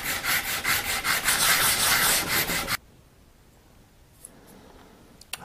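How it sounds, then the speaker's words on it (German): A horn piece is sanded flat by hand for a yew recurve bow, giving rapid rhythmic rasping strokes close up for about three seconds before it stops, leaving near silence and a couple of faint clicks. "muss ich natürlich noch das Horn auf einer Seite komplett plan schleifen"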